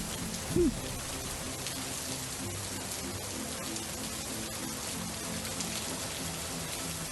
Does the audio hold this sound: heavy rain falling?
yes